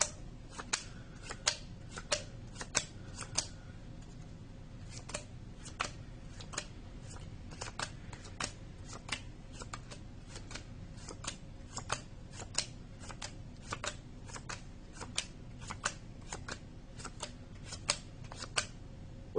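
Playing cards riffle and snap in a long run of crisp, evenly spaced flicks, close and clear over a quiet room hum, as cards are shuffled and dealt out into piles; no voices are heard.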